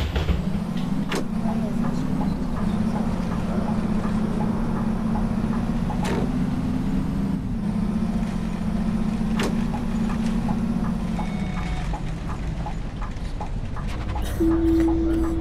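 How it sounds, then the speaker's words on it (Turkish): A modded bus engine in the OMSI bus simulator game, a Scania 11M on Line 300, drones steadily at idle and low speed with a constant low hum and a few sharp clicks, while a voice talks over it throughout. "Otobüsün sesi de mod."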